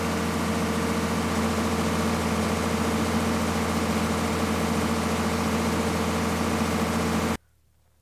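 A generator engine runs steadily up close, a loud, even idling drone with a strong low hum, then cuts off abruptly near the end, leaving near silence.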